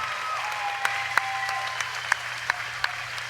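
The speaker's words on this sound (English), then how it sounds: "let's cheer for both boxers in what was an incredible contest right here in the Cayman" Arena crowd applauding and cheering for both boxers after a six-round pro fight in the Cayman Islands, steady broadband clapping with a few sharp claps standing out, a low hum underneath and a faint tone drifting through.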